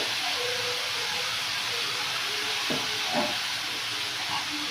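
Malabar spinach stalks with chili powder and cumin powder go into a hot pan in a village kitchen, a steady frying sizzle and hiss with a few soft thuds and scrapes partway through.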